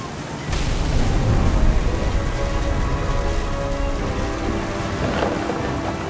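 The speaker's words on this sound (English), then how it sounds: "The thunder sounded much too close and full of angry power." Thunder and steady heavy rain in the video game What Remains of Edith Finch, a dense continuous downpour with a loud rumbling thunder swell near the start that stays close and powerful throughout.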